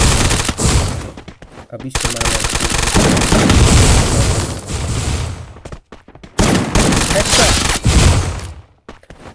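Rapid automatic UMP gunfire in the mobile battle royale game Garena Free Fire comes in dense, loud bursts separated by short gaps, while someone talks briefly over the shooting.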